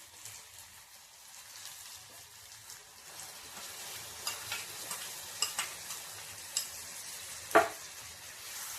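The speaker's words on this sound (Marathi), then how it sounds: "आता आपण हे दह्याचं मिश्रण केलेले ह्याच्यावर घालूया" A curd (dahi) mixture goes into a hot pan for a paneer curry, with a steady low sizzle and soft, uneven scrapes and clicks of stirring growing busier toward the end, close by and without voices.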